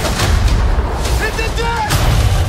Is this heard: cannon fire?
yes